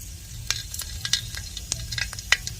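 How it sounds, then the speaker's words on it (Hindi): Asafoetida and green chillies frying in hot oil for a village-style dal tadka crackle close by, with sharp, irregular pops and spits over a soft low sizzle. "इस तरह से थोड़ी हींग हमने डाली है मिर्ची को"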